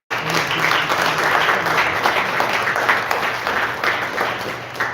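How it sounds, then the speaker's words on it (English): An audience claps and applauds steadily for several seconds, a dense, even wash of hands that tapers slightly at the end. "Let's give him a clap, everybody."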